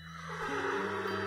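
A horse from the stable in the video game Westbound whinnies, a short bright neigh that swells after a brief lead-in and rings over a low droning game backdrop.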